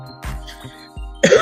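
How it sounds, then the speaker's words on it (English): A couple of short, close coughs break through a steady background hum, with a harsher throat-clearing burst at the end. "got a bit of a cough, unfortunately"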